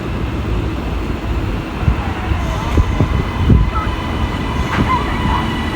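A Class 397 electric train passes through Motherwell station with a loud, continuous rumble. Brief metallic clacks and faint squeals ride over the rolling noise, and a voice may sound faintly beneath it.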